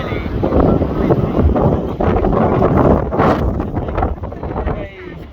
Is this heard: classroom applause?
no